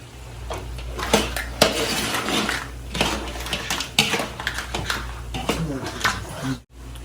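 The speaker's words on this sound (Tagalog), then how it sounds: "Next is, ilalagay na natin yung crabs." Crabs going into a pan with margarine, heard as metallic clatters, knocks and scraping of shells against cookware, with frequent speech in between.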